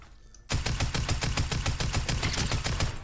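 Rapid automatic gunfire from a video game weapon in a duo Cash Cup match, a steady string of loud, evenly spaced shots that starts abruptly after a brief quiet moment and continues without pause.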